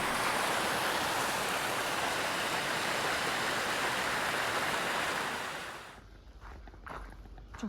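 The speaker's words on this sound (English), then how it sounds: "South Fork of Daggett Creek, raging." South Fork of Daggett Creek raging in Nevada's Carson Valley, a loud, steady roar of rushing water that fills the scene and then drops away suddenly, leaving quieter outdoor sounds.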